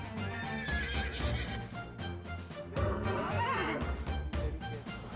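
Racehorse whinnying at the starting gate of a turf club race meeting, two loud, shaky neighs at close range with hoof clatter and stable noise between them.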